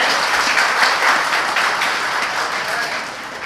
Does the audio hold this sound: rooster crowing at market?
no